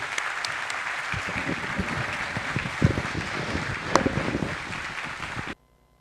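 An audience at an economics congress in a commerce exchange hall applauds steadily, a full sustained round of clapping that cuts off abruptly near the end.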